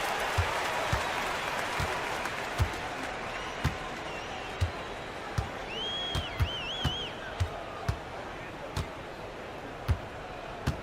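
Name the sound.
home crowd cheering in basketball video game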